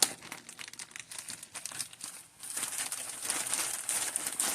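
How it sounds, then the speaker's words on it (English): Frozen peas poured from a plastic bag into a pan of turkey à la king sauce, a dense crinkling rattle of the bag and tumbling peas that swells in the second half, close and steady with no talk. "I'm just going to add a couple of cups of frozen peas here"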